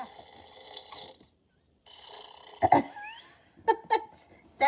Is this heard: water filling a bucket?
no